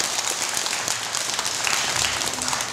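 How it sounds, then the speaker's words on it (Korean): An audience claps through a Sunday dharma talk at Jogyesa temple, a dense, steady wash of many hands that holds for a few seconds with no one speaking over it. "여러분들 손은 박수 치려면 분명하게 치시고 안 치려면은"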